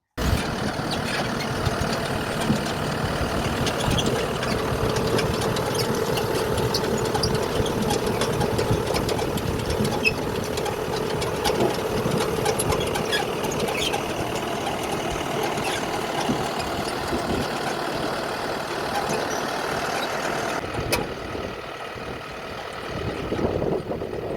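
A Scout TV-904C tractor engine idles steadily and loudly throughout, with a rapid knocking chug that stays constant, then drops slightly near the end.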